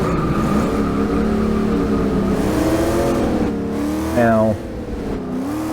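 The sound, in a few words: stock Camaro engine revving on track, from a video game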